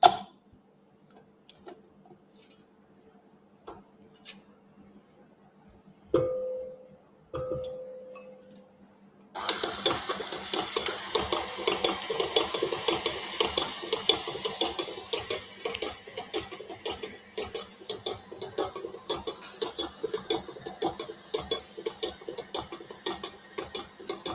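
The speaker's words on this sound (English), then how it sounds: "I'm going to beat that in the KitchenAid to just make it light." KitchenAid stand mixer with paddle attachment beating softened butter: after quiet handling clicks, the motor starts and runs steadily with a dense, rapid mechanical whirring and ticking that continues for over fifteen seconds.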